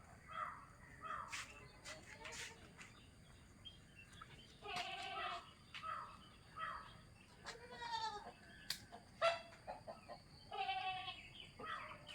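A young Beetal cross goat kid bleats repeatedly in short, wavering cries, with other animal and bird calls mixed in against steady background noise.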